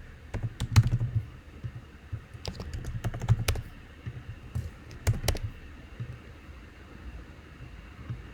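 An email address is typed on a computer keyboard in short bursts of crisp key clicks, with quiet pauses between clusters, close to the mic and with no speech.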